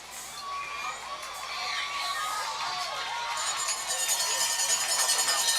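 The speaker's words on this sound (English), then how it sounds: "I'll give credit to the Trumann crowd noise" Home crowd at a Trumann vs Gosnell high school football game roars steadily, with shouts and cheers swelling louder toward the end.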